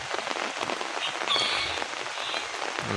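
Steady rain patters on surfaces outdoors, a dense close hiss with faint scattered drops and no voices.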